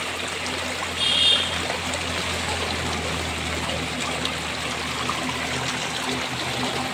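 Floodwater flows steadily through a flooded village in a continuous, close rushing wash, with a slightly louder surge early on.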